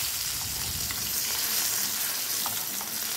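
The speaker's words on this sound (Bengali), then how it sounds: "গ্যাসের ফ্লেমটা মিডিয়াম টু হাইতে রেখে মাছগুলো এক এক করে ভেজে নেব।" Fish pieces fry in oil in a pan over a medium-to-high gas flame, a loud continuous sizzle with a few small pops and crackles, close by and with no talk.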